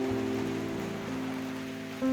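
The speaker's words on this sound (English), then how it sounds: "It's the raining outside and there's thunder and lightning." Rain falls outside during a thunderstorm, a soft steady patter heard from indoors under a low constant hum with tonal drones, no distinct thunderclap standing out.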